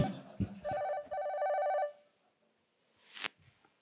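A telephone bell rings in two trilling bursts, close and fairly loud, followed by quiet and a short rustling noise.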